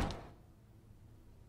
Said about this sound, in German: Was war das gerade für eine Tür, die ich da gehört habe?